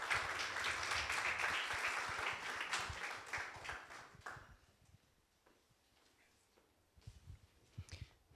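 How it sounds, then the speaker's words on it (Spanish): An audience at an architecture postgraduate talk bursts into loud applause for a speaker, fading after about four seconds into scattered claps, a few lingering hand claps and faint room noise. "Démosle un fuerte aplauso, por favor."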